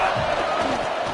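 Crowd noise from a video game college football match, a steady roaring stadium cheer that swells continuously at a loud, even level before second down, with an announcer's voice in the game.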